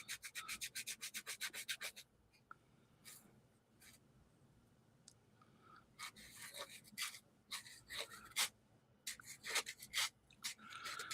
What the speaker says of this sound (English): Having a hard time getting the sandpaper in now because they're getting thicker.